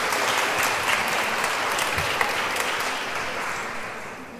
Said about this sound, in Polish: Brawa dla Kingi